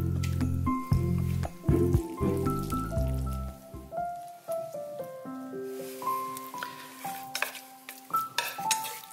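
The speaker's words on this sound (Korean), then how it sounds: "물기를 좀 꽉 짜주세요" Boiled noodles for a zucchini noodle dish are squeezed by hand to press out the water. Wet squishing comes first, then scattered drips and light clinks of dishes. The sounds are close and moderately loud, with no talking.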